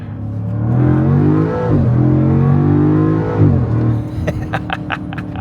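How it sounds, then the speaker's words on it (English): Deep, throaty burble of a Land Rover Defender's supercharged 5-liter V8, loud and close, its pitch sliding under light throttle, then settling into a low idle rumble while a voice speaks over it. "signature Jag Land Rover 5-liter Supercharged V8 burbles."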